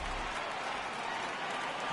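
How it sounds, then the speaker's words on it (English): A stadium crowd roars and applauds in a baseball video game, a dense continuous wash of cheering and clapping at steady volume throughout. "Crowd gets up for the 3-2."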